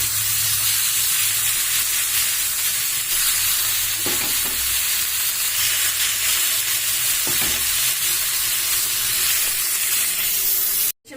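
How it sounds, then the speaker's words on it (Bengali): Marinated chicken tikka pieces fry in butter on a tawa with a steady, loud broadband sizzle throughout, a couple of soft knocks as pieces are placed, and no talking. "এবার আমি এগুলোকে তাওয়াতে বাটার দিয়ে দিচ্ছি, তার মধ্যে আমি এক এক করে দিয়ে দিচ্ছি।"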